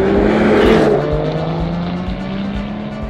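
A 2014 Aston Martin Vanquish engine running in manual mode on an open road, loud and close, with a steady tone that rises and falls slightly through the gears and no talk over it.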